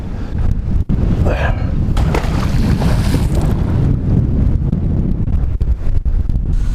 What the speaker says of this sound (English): The wind is killing us. It's very windy.